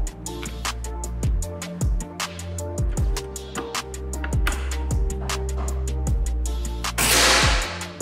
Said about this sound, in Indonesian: Oke, kita coba untuk tembakan yang kedua.